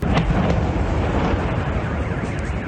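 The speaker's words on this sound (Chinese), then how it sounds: "空中接連傳出爆炸聲響" A dense, continuous roar of booming blasts from drones and air-defence missile interceptions rolls across the sky over Moscow, loud and unbroken, with low rumbling energy throughout and no voices.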